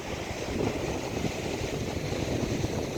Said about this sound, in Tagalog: Malakas po ang alon dito.